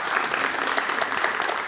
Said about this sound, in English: Hand clap for y'all, please, first of all.